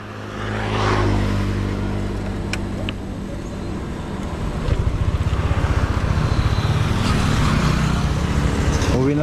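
A boat engine drones steadily on the water, rising after a few seconds into a louder, rapid chugging rhythm that continues to the end.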